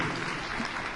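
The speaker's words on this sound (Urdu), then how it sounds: "تالیاں ان کے لیے" An audience at a children's speech competition applauds a child's correct answer; dense, continuous clapping from a crowd fills the whole short moment at an even level.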